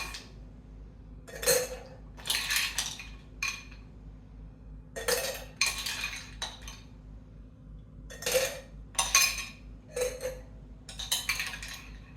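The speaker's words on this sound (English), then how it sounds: "Now I'm going to put ice." Ice cubes tumble into a blender jar or glass for a mango milkshake, giving bursts of clinking and rattling in irregular clusters, close and fairly loud, with no talking.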